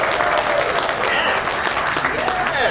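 Applause from a comedy audience at an improv film show, dense steady clapping sustained throughout at a constant level, with some voices mixed in.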